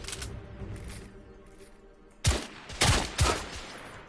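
Gunfire in The Order: 1886 comes as a few sharp, loud bursts close together after a quieter stretch, with no talking.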